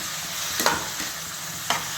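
Kashmiri chili and turmeric sizzle in a pan while a utensil stirs them, giving a constant close frying hiss with two or three distinct scraping strokes.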